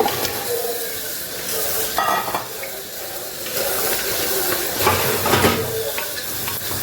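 Washed mutton goes into a hot pan and sizzles loudly and steadily, with bursts of spitting and stirring scrapes throughout and no voices.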